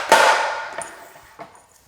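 A scribed glass backsplash tile snaps in a manual tile cutter with one sharp crack, followed by a couple of faint small clinks as the pieces settle.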